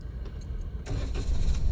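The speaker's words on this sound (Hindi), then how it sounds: "स्टार्ट करो, पूरा क्लच दबाओ, क्लच दबाओ पूरा, स्टार्ट करो।" A car engine is cranked and starts during a driving lesson with a manual clutch, a brief click and rattle followed by the engine catching and running steadily, loud and close.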